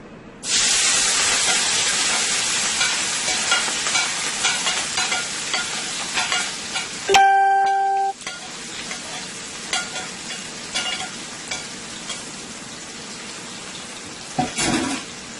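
Seasoning hits two tablespoons of hot olive oil for a chicken stew with white wine, giving a loud sizzling hiss with stirring scrapes, a brief beep-like tone midway, and the sizzle continuing underneath.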